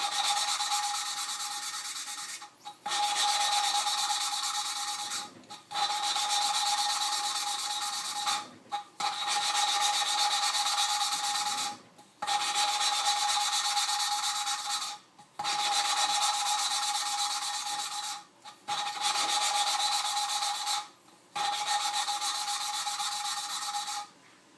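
An engine valve lapped by hand with coarse grinding paste on its seat: a steady gritty rasping rub in repeated strokes of a few seconds each, broken by short pauses as the valve is lifted and turned, close and with no talking.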